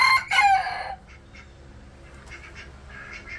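Chickens and roosters in a backyard coop settling in for the night, with a burst of loud crowing and squawking up front, then quieter clucking and scattered calls in the background.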